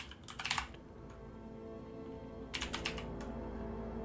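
Computer keyboard typing during Skyrim modding in Mod Organizer 2: two short bursts of rapid key clicks, the first near the start and the second later, over a steady low hum.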